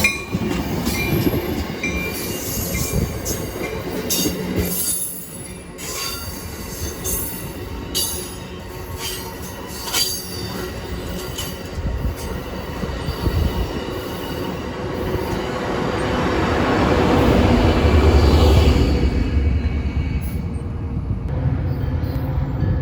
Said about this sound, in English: This particular train had the Veterans NPCU cabbage leading